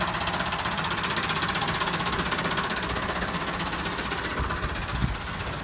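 Massey Ferguson 375 tractor with a modified exhaust running steadily up close, giving a loud, even, throbbing diesel rumble with a fast rhythmic knock that holds the same level throughout, with a small thump near the end.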